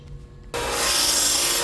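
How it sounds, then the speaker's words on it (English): A belt sander starts abruptly and grinds a battery connector for a portable power station, a loud, close, steady abrasive roar after a short quiet lead-in. "I'm going to go ahead and take it to the belt sander now."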